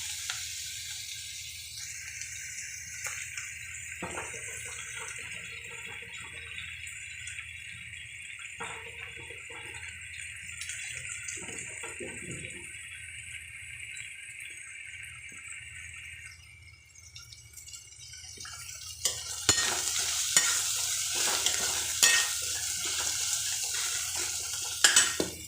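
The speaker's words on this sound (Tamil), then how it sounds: "வெங்காயம் நல்லா வதங்கட்டும்" Onions sautéing with turmeric and salt for crab gravy, a quiet continuous sizzle with occasional soft stirring, swelling into a louder hiss toward the end.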